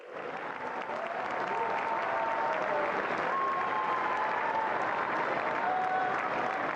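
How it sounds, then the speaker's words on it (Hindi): Audience at Bharat Mandapam in New Delhi applauding during a youth leaders' event with Prime Minister Narendra Modi, a dense, steady wash of clapping that sustains evenly throughout at moderate distance. "आपकी तालियां रुकनी नहीं चाहिए"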